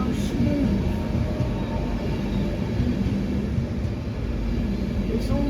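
A train passes steadily through Doncaster railway station, a continuous loud rumble of wheels and carriages with a faint high whine above, heard alone without talk.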